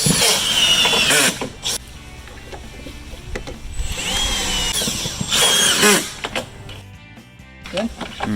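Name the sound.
drill driving screws for Trex composite decking hidden clips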